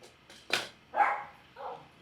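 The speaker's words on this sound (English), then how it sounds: "Oh, these dogs are making noise again." Dogs barking somewhere outdoors: three separate barks, one sharp and loud, then a fuller one, then a softer one, spread across two seconds against a quiet background.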